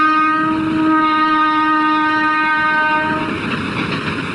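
A train runs along a railway line right beside a historic Mughal tomb in India, its horn-like tonal drone sustained and loud, then giving way to broadband rumble and rattle of the cars as it passes close by.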